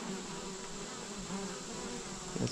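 A dense swarm of honey bees buzzes continuously around honey supers set out over the hives for cleaning, a steady close drone with no voices.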